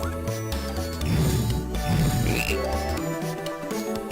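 Frog croaks from a Game Boy Advance Nicktoons: Attack of the Toybots game as Timmy turns into a frog, layered over loud, busy chiptune music with repeated low pulsing notes.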